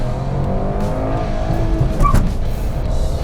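Engine of a 2021 Renault Kiger compact SUV accelerating hard in first gear, a loud, close, rising rev with climbing harmonic tones and some tire and road noise underneath.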